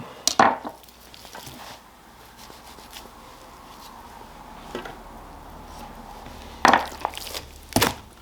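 A knife trims fat off a brisket, giving a few sharp scraping cuts and slicing strokes, spaced out, at the start and near the end, with quiet handling noise between them, close and with no talk.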